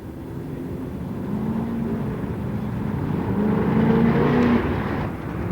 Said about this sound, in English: Steve Fluke driving his Corvette.